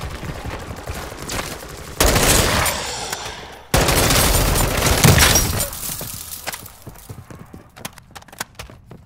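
Gunfire in the video game Modern Warfare 3 Zombies: loud bursts of shooting break in around two seconds and again near four, dense and sustained, then fade into scattered sharp cracks and clicks toward the end.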